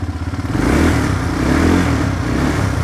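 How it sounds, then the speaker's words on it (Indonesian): Dazzle 200 automatic ATV from 2024 cranking on its electric starter and catching, the engine rising from a stuttering turnover into a loud, steady idle close by with no talking. "Kita coba tes starter saja."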